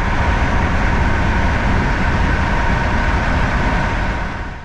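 Loud, steady broadband rumble from inside a moving PKP Intercity train pulling into Nowy Dwór Mazowiecki near Warsaw, a continuous roar of wheels and carriage noise that eases slightly at the end.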